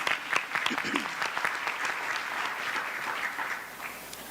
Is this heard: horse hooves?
no